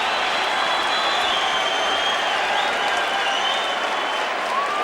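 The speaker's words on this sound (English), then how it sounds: "Crowd likes the knockdown" A boxing arena crowd at the Jones vs. Felix Trinidad fight in 2008 cheers and applauds a knockdown, a dense, steady roar of clapping and shouting that fills the whole stretch without letting up.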